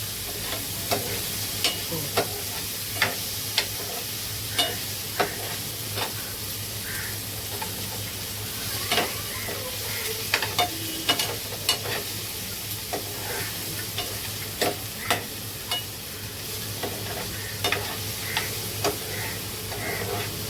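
Chopped tomato sizzles and fries in a little oil in a pan, a steady crackling hiss with scattered sharp pops and ticks throughout, close and continuous with no talking.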